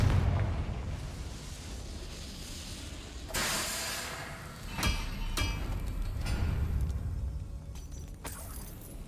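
A Confringo blasting spell bursts in Hogwarts Legacy, a sudden hissing blast followed by sharper cracks and rumbling debris over steady ambient noise.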